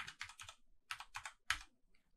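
Quick bursts of computer keyboard typing in RStudio, close and crisp, in two clusters of three key-press groups with a brief pause between, then a faint final tap.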